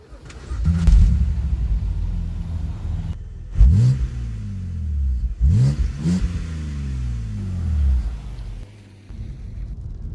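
A BMW 130i six-cylinder engine starts and is revved, close and loud, with a settled idle broken by two or three sharp throttle blips that climb and fall back.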